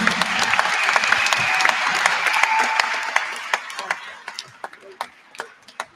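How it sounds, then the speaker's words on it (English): A crowd at a school sports awards event gives a round of applause, full and dense at first, then thinning into scattered individual claps as it fades, with voices mixed in. "Round of applause for those ladies."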